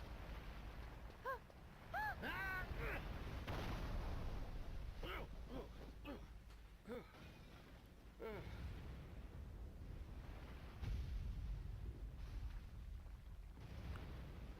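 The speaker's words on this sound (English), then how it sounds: "Get out of the exploding castle." A castle exploding in the video game Professor Layton and the Diabolical Box, deep rumbling blasts and a sustained low roar under scattered cries and chirping effects, rolling on for many seconds with a few louder surges.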